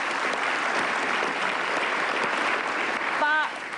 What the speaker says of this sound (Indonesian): kita tepuk tangan buat Pak Mahfud.